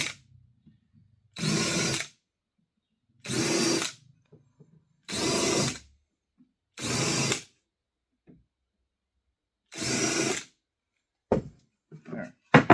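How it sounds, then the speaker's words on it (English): A handheld drill with a countersink bit bores into wood in five or six short bursts, each whirring for about a second with quiet gaps between, close and clear, followed by a few light knocks. "countersink your holes"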